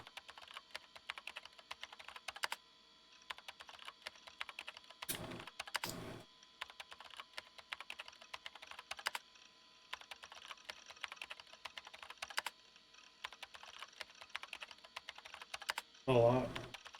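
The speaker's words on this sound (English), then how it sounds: "The only sound reverberating through the room was that of someone tapping a keyboard." Keyboard tapping from the Chaos;Head visual novel, quick light keystrokes pattering on and off at a soft, close level, broken by a couple of brief louder bumps.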